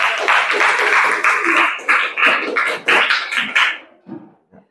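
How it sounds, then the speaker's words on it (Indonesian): A classroom group claps for a presenting group in a school lesson, a brief burst of mixed hand claps and cheers that tapers off into quiet. "tepuk tangan dulu buat kelompok 3"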